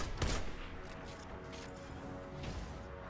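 Enemy gunfire in the Destiny 2 Nightfall strike The Inverted Spire, a burst of shots near the start followed by sustained game combat noise and rattling fire, loud and close throughout.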